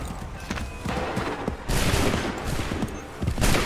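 Musket volleys crack out in Assassin's Creed III, several loud, ragged bursts of massed gunfire amid battlefield noise and hoofbeats.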